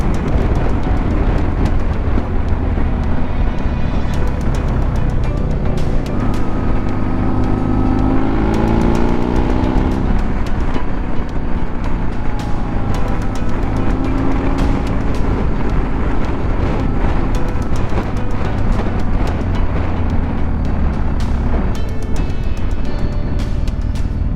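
A car drives over a rough, uneven road through farmland in third gear, its engine and tyres making a continuous rumbling drone with bumps and rattles, with no talk.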